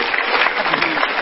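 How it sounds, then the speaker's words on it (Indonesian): A stand-up comedy audience applauds after a comic's set at an Indonesian comedy battle, a short, dense burst of clapping with a host's voice partly mixed in. "Tepuk tangan sekali lagi untuk Yuda Kling."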